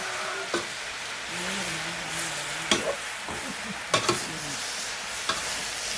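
Cabbage and sun-dried pork being stir-fried on high heat with fish sauce: a steady sizzle broken by several sharp spatula clanks against the pan and scraping tosses.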